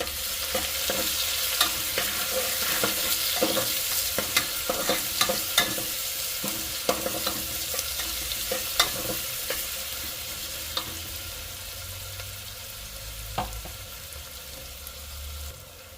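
Finely chopped onions, three medium ones, are stirred into a hot frying pan for a green pea curry. A spoon scrapes in repeated strokes over a steady loud sizzle, which tapers off toward the end, with no voices.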